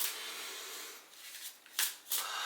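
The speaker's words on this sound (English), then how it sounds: "So while I'm shuffling these cards," Tarot cards are shuffled by hand in a quiet room, giving a soft continuous riffling hiss broken by a few brief louder flicks and slaps near the end, with no voices.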